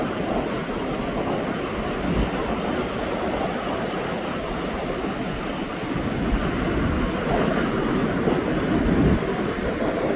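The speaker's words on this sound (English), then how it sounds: "Ocean." Pacific Ocean surf at Tofino, Canada, at sunset: a steady, broad wash of breaking waves rolls on continuously, swelling slightly near the end, with wind buffeting the microphone and no speech.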